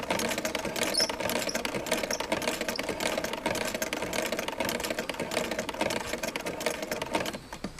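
A sewing machine runs a continuous zigzag stitch across woven strips of fabric, a dense, steady mechanical whir and rattle at close range that holds constant throughout with no voices.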